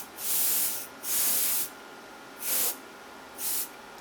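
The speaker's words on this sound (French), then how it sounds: "reprenez votre bombe dépoussiérante et aspergez-la." Compressed air duster spraying inside an Early 2008 iMac: four sharp bursts of hissing spray, two longer and two shorter, close and loud with brief pauses between.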